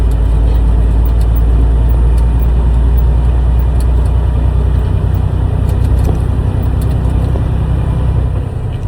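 A 10-speed semi truck's diesel engine drones steadily and loudly throughout as the driver floats gears, a continuous low rumble with little change in pitch.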